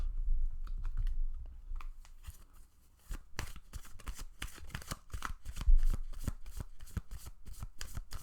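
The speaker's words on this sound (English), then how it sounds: "So let's get a few more cards for you." Tarot cards are shuffled and drawn, producing a close, quiet run of rapid riffling flicks and soft slaps, broken by a short pause partway through.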